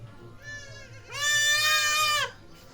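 A male goat bleats twice with no other sound: a short, softer call, then a loud, drawn-out wavering bleat close by.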